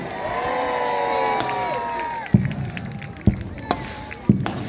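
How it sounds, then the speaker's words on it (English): Crowd of spectators cheering at a lakeside mini boat battle re-enactment in Scarborough, a sustained roar of voices with a few sharp bangs punctuating it. "Let's have a cheer for the convoy."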